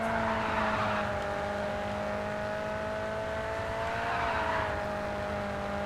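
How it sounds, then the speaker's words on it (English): Race car engine in the Grid 2 video game echoing off a cliffside, a steady loud droning hum with a sustained pitch that dips slightly midway, no talk. "Really like how it echoes the engine noise when you're in the cliffside."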